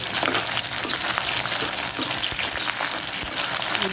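Steady, loud sizzling of green chillies frying in a hot pan, with a continuous crackle and occasional small pops throughout.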